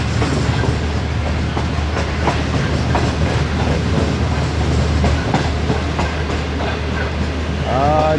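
Shalimar Express passenger train with old coaches rolling on rails near Shahdara junction in heat, loud steady clickety-clack of wheels and car rumble throughout, with brief squeals near the end.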